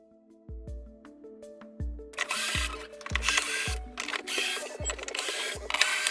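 Screwdriver backing screws out of the switch panel of a Philips vacuum cleaner, a run of sharp clicks and ticks, near and fairly faint, several evenly spaced over a few seconds, with rustling handling noise building partway through.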